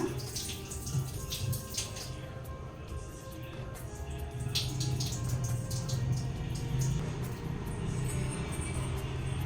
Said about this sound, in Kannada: ನೀರನ್ನೆಲ್ಲ ಬಸ್ಬಿಡೋಣ